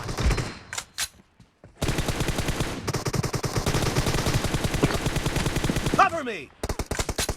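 Video game gunfire sounds in rapid automatic bursts, loud and close, with a few single shots and short gaps between the volleys.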